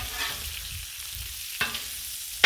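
Bacon frying on a Blackstone griddle makes a steady, close hiss and crackle, broken by two sharp scraping or clinking hits from a spatula.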